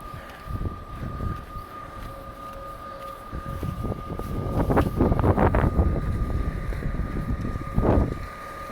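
Gusty wind buffets a microphone while walking a Toronto street after a snowstorm, a steady low roar that surges into louder bursts in the middle and again near the end, with a faint steady tone running underneath.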